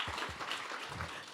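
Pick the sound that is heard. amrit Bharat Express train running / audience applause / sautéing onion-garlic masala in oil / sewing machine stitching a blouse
audience applause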